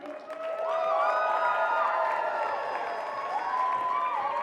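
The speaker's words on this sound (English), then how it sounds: "we need to hear like a really round of applause for my committee" An audience breaks into applause and cheering for a committee at an April event, a sustained crowd roar with clapping and whoops that rises quickly and holds steady for several seconds.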